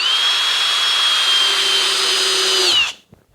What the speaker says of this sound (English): These are 1-inch screws and go in very nicely. Now this is through pine.